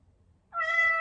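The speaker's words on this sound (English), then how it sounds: "And he let out a meow to let you know." A Chongker robotic emotional support cat toy gives one clear, synthetic-sounding meow when switched on, rising out of near silence and holding as a single clean tone to the end.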